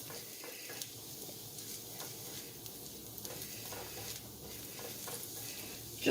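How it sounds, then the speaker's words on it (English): Fresh sage and onion sizzle steadily in a skillet for pan-roasted sweet potatoes, a continuous close frying crackle with light stirring and no talk. "So I just added the sage to the onion."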